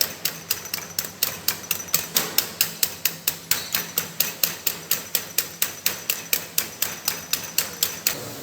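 Mango kulfi ingredients being whisked by hand in a bowl, a fast, even series of sharp clicking taps, about three per second, continuing steadily and close up with no talk.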